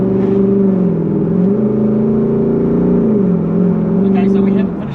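A Mazda ute fitted with a Toyota 3UZ V8 engine and five-speed A650 automatic revs nearby, a loud steady drone that dips and climbs in pitch before easing off at the end.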